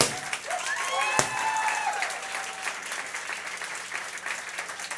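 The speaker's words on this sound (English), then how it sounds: "If we could give her one more round of applause" A crowd at an event gives a round of applause, continuous clapping from many hands at moderate distance, with a sharp knock early on and some high whistles or cheers mixed in.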